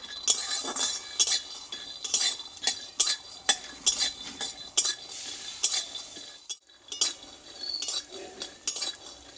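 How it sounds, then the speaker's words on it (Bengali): Peanuts in their shells are dry-fried in a hot wok, stirred with a utensil that makes repeated sharp rattling scrapes and clinks at a steady rhythm, with a brief pause near the end. "বাদামটা আগে একটু ভেজে নেবো আমি বাদামটা আমি খোসা শুদ্ধই কিন্তু ভেজে নেব"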